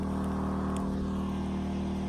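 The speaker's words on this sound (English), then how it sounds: "Sorry about the noise, generator," A generator drones steadily near a camper, a constant low hum with a rumbling hiss running unbroken and fairly loud throughout, with no voices over it.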